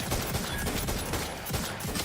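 Quick bursts of automatic gunfire from a weapon fired from the hip in Outer Worlds 2, a steady rattle of close, loud shots lasting about two seconds.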